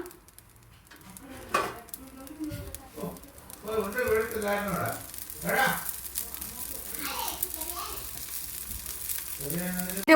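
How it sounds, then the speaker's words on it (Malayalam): Ghee sizzling on a masala dosa pan for Kerala-style masala dosa, a soft frying hiss running beneath a person talking throughout. "ഇതിലേക്ക് കുറച്ച് നെയ്യ് നമ്മൾ ഒഴിച്ചു കൊടുക്കാം"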